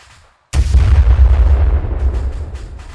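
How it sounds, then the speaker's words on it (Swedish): After a brief moment of quiet, a heavy burst of gunfire in the video game Arma 3 erupts suddenly, loud and booming, with rumbling echoes that continue to the end. "Skott kommer."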